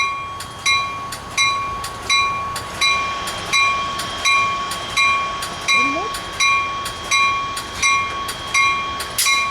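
Freight train 769 departs Fullerton with a loud, regular clickety-clack of wheels over rail joints, repeating in an even rhythm close by, with a high tonal ring running above it.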